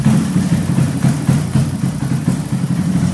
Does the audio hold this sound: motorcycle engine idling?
yes